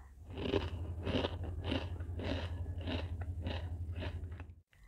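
Crispy fried Mustofa-style shredded potato snack being chewed close up, giving about eight rhythmic, evenly spaced crunches that end in brief silence, with no talk.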